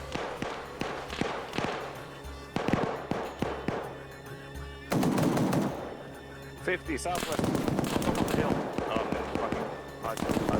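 Gunfire in Arma 3 during a VIP escape mission in Fallujah: sharp, loud single shots and bursts crack at irregular intervals, followed by a heavier stretch of rumbling, sustained firing and booming reports.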